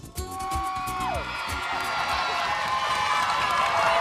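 A hundred children in a studio audience at a national Children's Day quiz show, applauding and cheering in a steady, swelling roar after a short tonal sweep.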